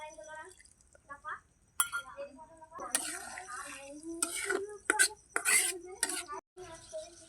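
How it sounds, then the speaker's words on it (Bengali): Eggplant mustard curry stirred in a pan, with a utensil scraping and clinking against the metal in short irregular bursts, close and fairly quiet, with a few sharper knocks along the way. "এটাকে এবার এইভাবে নেড়ে চেড়ে নেবো।"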